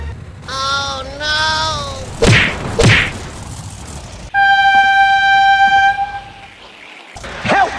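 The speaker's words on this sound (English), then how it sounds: "Oh my god, train!" A toy train's recorded horn sounds loud and steady as a long multi-tone blast, preceded by a squeaky toy-like warble and sharp knocks, in a playful monster truck and tow truck play scene.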